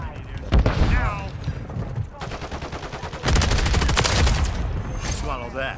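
Gunfire in Modern Warfare 3 crackles in repeated rapid volleys, loud and close, over game sound, with a voice talking through much of it.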